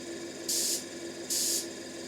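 Two short bursts of hissing air from an airbrush with no paint, each lasting about a quarter second, separated by a pause over a quiet background hum.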